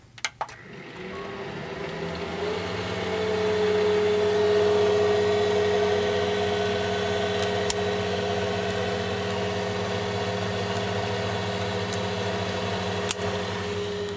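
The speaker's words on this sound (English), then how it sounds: "now my Xbox sounds like a jet engine" A loud, steady whirring Xbox console cooling fan with a droning hum starts up after a few clicks and runs on continuously, like a small jet engine.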